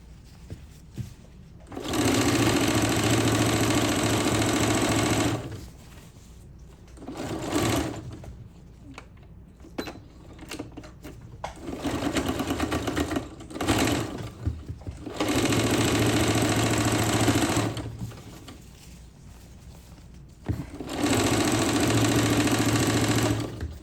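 A Singer sewing machine stitches in several long, steady bursts of loud mechanical whirring and rattling, separated by quieter pauses filled with clicks and handling noises; nobody talks.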